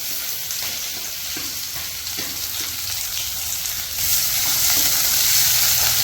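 Chopped onions sizzle and fry steadily in hot oil in a pan after ginger, green chilli and garlic, a dense crackling hiss that grows slightly louder near the end.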